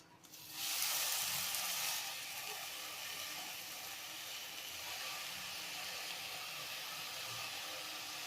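Gongura (sorrel) leaves dropped into a hot pan set off a sudden loud sizzle that settles into a steady, softer frying hiss with occasional stirring scrapes, no voices.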